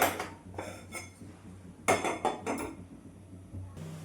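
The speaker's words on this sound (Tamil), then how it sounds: "இப்போது ஸ்டவ் ஆன் பண்ணி பாத்திரம் வச்சுக்கலாம்." Metal pots and pans clank and clatter on a kitchen stove as a pan is set down before frying crispy chicken, a handful of sharp close knocks and scrapes separated by brief pauses.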